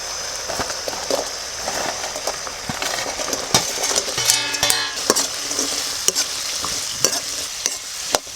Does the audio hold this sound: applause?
no